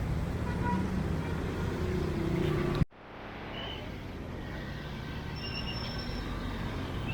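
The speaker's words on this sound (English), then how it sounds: "That vehicle has a very loud," A vehicle with a loud, noisy transmission rumbles past close by, a dense roar that cuts off abruptly and gives way to steady traffic hum.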